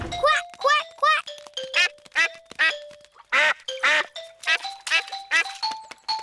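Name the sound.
cartoon character imitating a duck quacking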